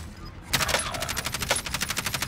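Rapid automatic fire from a Kilo rifle in a multiplayer shooter game, a fast steady burst of sharp close shots starting about half a second in and continuing without pause to the end.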